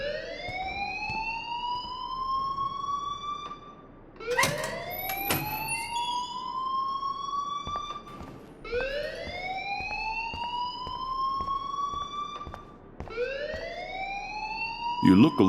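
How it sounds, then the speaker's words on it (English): A fire alarm in the Life Is Strange video game wails in repeated rising sweeps, loud and continuous, with a few sharper bursts between cycles. "please turn off that alarm since that's your job"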